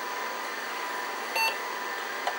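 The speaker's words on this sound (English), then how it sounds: "Beep." A DTK Data 1000 computer gives a short, thin electronic boot beep over a steady fan hum, followed later by a faint tick.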